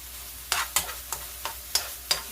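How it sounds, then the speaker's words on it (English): Onions and other tuna roll ingredients are sautéed in a pan, with six sharp stirring scrapes at a steady rhythm over a soft, continuous sizzle, heard close up. "It's just to saute all the other ingredients, or especially the onions,"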